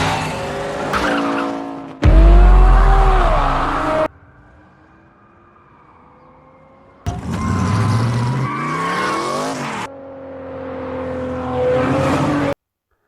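A car chase from Fast & Furious 7, with cars speeding and skidding. Loud engine roars and squealing tires come in several bursts, broken by quieter stretches of low drone.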